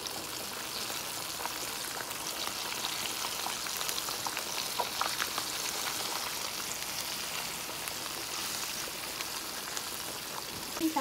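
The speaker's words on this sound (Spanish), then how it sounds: "Vamos a freír el pollo, mis amores." Flour-coated chicken frying in hot oil, a dense, continuous sizzle with crackling pops, close and steady throughout.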